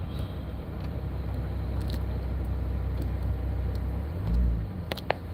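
A car engine rumbles steadily at low speed while the vehicle creeps forward in a truckers' convoy, a continuous low drone with a brief swell near the end and a few faint clicks.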